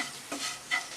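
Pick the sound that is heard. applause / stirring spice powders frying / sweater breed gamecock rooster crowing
stirring spice powders frying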